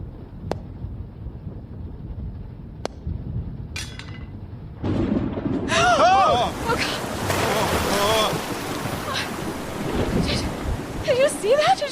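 A storm with thunder and crashing waves: faint sharp cracks first, then a heavy surge of wind and surf rising into a loud, sustained roar, with a voice speaking over it.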